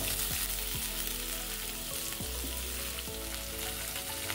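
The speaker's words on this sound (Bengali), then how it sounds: "কড়াইতে আমার আলু আর বরবটিটা দেওয়া হয়ে গেছে।" Potatoes and yardlong beans fry in a wok of hot oil with black cumin seeds, giving a steady, close sizzle with a few soft stirring scrapes, and no one speaks.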